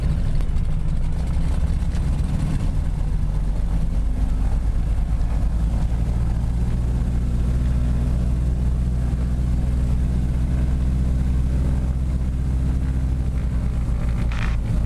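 Twin radial engines of a Beech 18 aircraft drone steadily at close range, a loud, continuous low rumble that holds evenly for about fifteen seconds.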